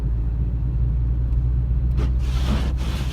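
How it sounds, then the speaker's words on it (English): Car engine cruising steadily in fourth gear, a loud continuous low rumble heard from inside the vehicle with no talking. "I'm just gonna cruise here in fourth gear."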